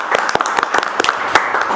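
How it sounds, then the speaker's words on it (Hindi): A short burst of clapping from a small group at a mobile phone repair bench, a handful of sharp, uneven hand claps close by, lasting under two seconds. "चाहे इनके लिए एक बार जोरदार ताली बजा दो।"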